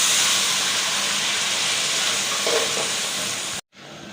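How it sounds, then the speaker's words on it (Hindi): Water poured into sizzling masala with chickpeas in a pan for Lahori chana curry, a loud continuous hiss and sizzle of steam that cuts off abruptly near the end. "मिक्स करके इसमें 1 कप पानी डाल देंगे।"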